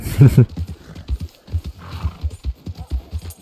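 Horse hooves clip-clop at a riding pace in Red Dead Redemption 2 around snowy Valentine, a loud whinny at the start and then steady hoofbeats, close and unaccompanied by talk.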